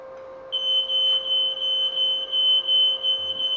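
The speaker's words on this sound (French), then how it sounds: "Et ça, c'est le détecteur incendie." A smoke detector in a workshop where arc welding is practiced gives a steady run of evenly spaced high beeps over a constant low hum, with no voices.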